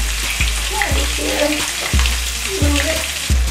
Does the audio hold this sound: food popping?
yes